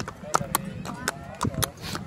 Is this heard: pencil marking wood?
no